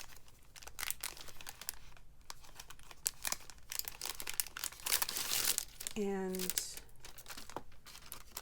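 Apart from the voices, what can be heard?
tearing sheets from a thin paper pad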